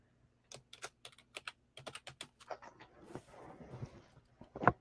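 Computer keyboard typed in quick bursts of clicking keystrokes, close and fairly loud, with brief pauses, then a rustling stretch and a sharp louder clack at the end; no talking.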